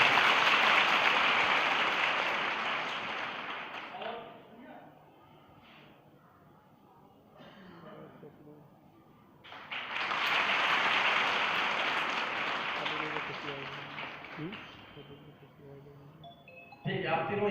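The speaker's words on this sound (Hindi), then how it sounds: "आप इसके लिए एक बार फिर जोरदार" Loud, dense applause from an audience at a police event honouring a girl, swelling for several seconds, dropping away while a voice speaks, then rising again into a second sustained burst.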